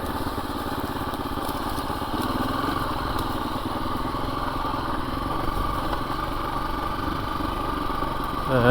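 KTM 350 EXC-F dirt bike engine running in second gear while riding, a steady buzzing drone with a slight rise in revs near the end, no talking.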